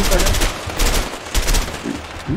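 Rapid bursts of gunfire in the video game A Way Out, several loud clusters of shots in uneven rhythm, close and punchy, with a voice briefly speaking between them.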